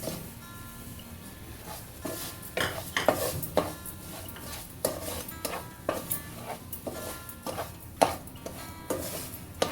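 Sugar and semolina being stirred in a pan for mango halwa, with a spoon repeatedly scraping and clinking against the metal in irregular close strokes and small sharp knocks, with no talk.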